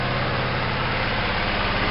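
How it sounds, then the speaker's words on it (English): A steady tractor engine idles close by, a low, even rumble with a faint rhythmic chug and no voices. "We got the tractor running."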